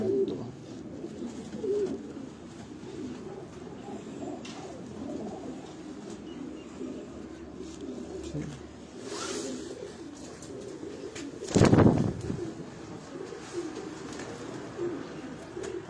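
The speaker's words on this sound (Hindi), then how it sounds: "बहुत अच्छे कबूतर हैं" Domestic pigeons, including a Chinese breed, cooing softly in a loft, with low rolling coos throughout and a brief rustle of wings or movement partway through.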